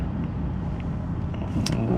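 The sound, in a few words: road traffic passing a lorry waiting to pull out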